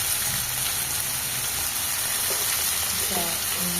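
Beans and chopped tomato pieces hit a hot pan with browned onions, giving a steady, continuous sizzle and frying hiss throughout, fairly close and even in level with no pauses.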